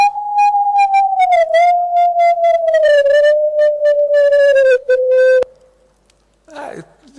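A pure sonified tone from single electrons on a carbon nanotube holds steady, then drops in a few small pitch steps and chops into rapid pulses before cutting off. A brief voice follows in the quiet tail.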